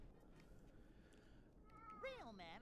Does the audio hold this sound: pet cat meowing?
yes